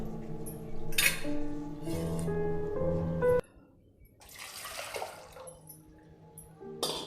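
Water poured into a pot to make tea in a home kitchen, a loud splashing pour for about three seconds with clinking, then quieter handling and a second brief splash.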